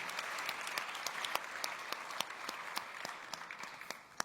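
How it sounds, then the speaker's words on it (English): An audience at a green start-up pitch slam claps for a presenter. The applause is steady and distant, with a few sharper individual claps standing out, and it stays fairly quiet throughout. "Big round of applause for you"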